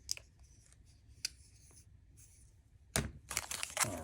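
Blade slicing open the packaging of a Refyne Co. EP1 bolt-action EDC pen in copper, brass or titanium, with a few faint snips early, then a louder burst of cutting, crinkling and tearing near the end.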